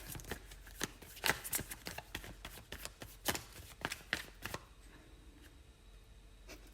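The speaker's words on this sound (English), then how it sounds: "I'm going to get one more card." Tarot cards are drawn and shuffled from a deck, with a quick run of crisp papery flicks and slaps that thins out into quiet toward the end.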